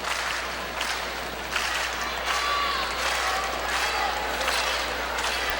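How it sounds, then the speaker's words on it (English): A large crowd roars steadily at a 2010 high school basketball game between Glendale and Willard at JQH arena, a dense, continuous wash of cheering and clapping with no breaks. "Big crowd watching at JQH"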